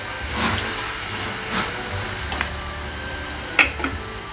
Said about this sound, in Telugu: మంచిగా ఉడికిన దాంట్లోకి ఇప్పుడు మనం ముందుగానే చేప తలలు వేసేసుకుందాం.